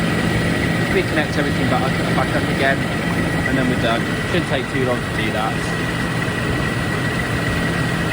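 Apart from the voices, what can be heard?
Rover SD1 engine idling during tune-up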